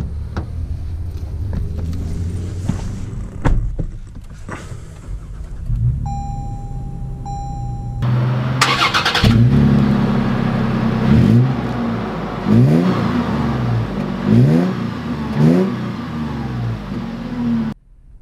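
A 2020 Toyota 4Runner TRD Pro starts with a brief chime, then its engine turns over and rumbles into a rising rev as it pulls away, with repeated swells of acceleration and shifts, loud and close from inside the cabin.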